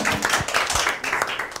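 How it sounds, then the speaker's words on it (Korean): A class claps for a team after a presentation in a service design course: a brief, fairly close round of scattered hand claps from a small group, with separate smacks standing out, fading slightly toward the end. "박수 한번 쳐주세요."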